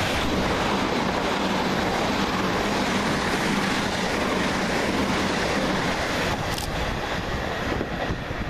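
Two coupled Class 387 electric trains race fast through Goring-by-Sea station, a loud, continuous close-up roar of wheels and rushing air filling the whole stretch with faint rail clatter.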